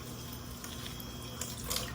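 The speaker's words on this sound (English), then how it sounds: "give it a good little rinse again" Tap water runs steadily into a sink while spring roll ingredients are rinsed for Vietnamese gỏi cuốn, a close, continuous splashing stream with a few brighter drips and no talking.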